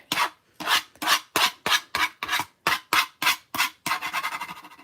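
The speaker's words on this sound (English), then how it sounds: "Now to get rid of these, I scrape them off with my bone folder." A bone folder scraping leftover die-cut paper dots off a cutting plate, about ten loud, evenly spaced rasping strokes ending in a faster, shorter flurry, close and alone.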